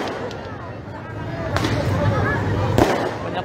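Fireworks greeting New Year 2023 along Margonda in Depok, with two distinct cracking bursts over a continuous dense crackle and crowd murmur, and voices mixed in.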